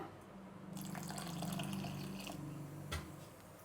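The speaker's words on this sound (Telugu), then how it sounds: "ఇప్పుడు ఇందులో ఇంకొద్దిగా వాటర్ వేసుకుందాము" Water is poured into a bowl of idli batter, a close, gurgling splash that rises and holds for a couple of seconds, then ends with a short drip and clink.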